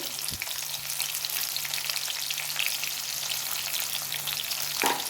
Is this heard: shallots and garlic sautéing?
yes